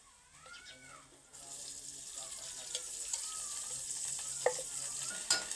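Mutton curry masala cooking in a little oil with meat juices, stirred in the pan; a low continuous sizzle with scraping stir strokes, moderately quiet, with faint voices and clinks in the background.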